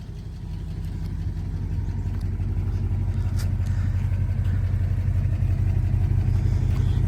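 A 1958 Plymouth engine runs steadily at idle, a low continuous rumble held close and even throughout with no talking.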